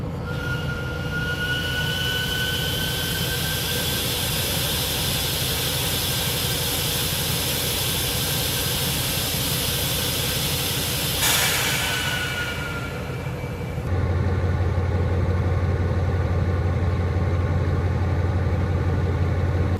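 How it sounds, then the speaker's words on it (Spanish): A Feve Geco 1500 diesel locomotive, number 52, hauls a loaded coil wagon with a loud, steady mechanical rumble that carries high squealing tones. The sound shifts midway to a heavier, pulsing engine throb. "la 52 suena que tiene complejo de locomotora de vapor"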